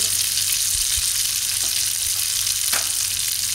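Chili powder fries in hot oil on a high flame with a paste for vegan Bombay potatoes, giving a constant, loud, dense sizzle with a couple of faint stirring knocks.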